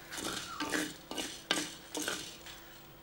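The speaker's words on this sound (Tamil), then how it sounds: "மிளகு மிளகாத்த ரெண்டாக ஒன்றா வறுக்கிறோம்" Black peppercorns and dried chillies are dry-roasted together in a pan for a village-style stingray fish curry, with about four close scraping stir strokes against the metal and rattling spices between them.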